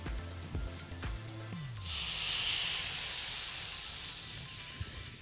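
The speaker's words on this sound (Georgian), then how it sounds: "და გადმოვიტანოთ თევზი გრილზე." Fish laid on a heavily oiled grill hisses into a steady, broad sizzle. It rises sharply after some clinks and handling noises, stays loud and close for a few seconds, then eases slightly.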